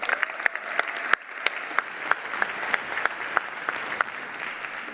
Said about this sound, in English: Let's give all these athletes another round of applause and the scholarship winners